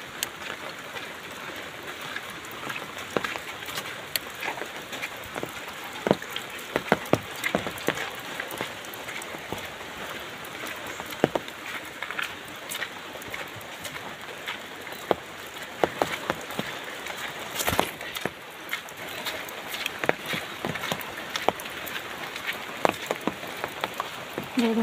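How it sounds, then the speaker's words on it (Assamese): Rain falls steadily and densely on surfaces outdoors, a constant close patter with scattered louder drops throughout, no voices. "বৰষুণৰ কি ধুনীয়া মনোমোহা দৃশ্য।"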